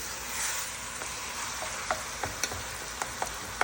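Seasoned ground beef sizzles and fries in a pan for taco filling, a steady soft crackle with occasional sharp pops and light stirring ticks, close and unaccompanied by voices.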